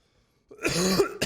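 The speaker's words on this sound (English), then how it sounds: "Sorry for coughing in the mic." A single harsh cough right up against a microphone during a gaming session, abrupt after a moment of silence, with a short second burst at the end.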